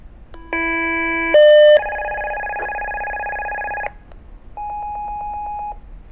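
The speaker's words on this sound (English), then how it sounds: "double check the two-tone to make sure that it triggers the gate release as well" Electronic tones from a Ritron portable radio's gate-release two-tone signal sound in sequence: a steady two-pitch tone, a brief higher beep, a longer tone, then a pulsing tone after a short gap.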